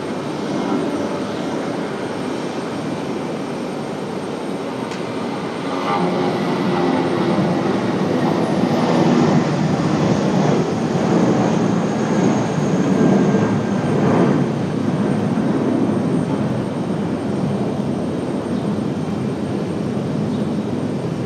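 Airbus A350 and A319 airliners taxi at Raleigh-Durham airport, giving a steady, broad jet engine roar that holds at a fairly close, even level throughout with a slight swell partway.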